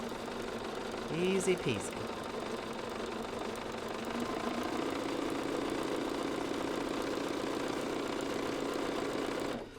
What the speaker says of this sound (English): you're just sewing right on that line